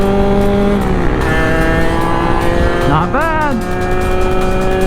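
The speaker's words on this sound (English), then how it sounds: "Let's rev to 12K uphill." A Sherco big bore motorcycle engine revs hard while climbing uphill, a loud steady whine with pitch rising and dipping through a throttle sweep, and someone speaks briefly over it.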